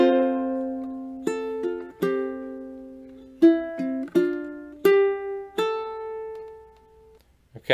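Ukulele fingerstyle phrase of Brahms' Lullaby, single plucked notes ringing clearly one after another at a slow, gentle pace, closely miked and alone without talk.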